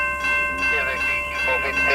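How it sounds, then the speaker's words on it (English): A CSX freight train rolls past on track 2, a steady rumble with ringing tonal squeal and bell-like overtones, close and loud throughout. "We also had northbound train Q452 in the distance on track 2."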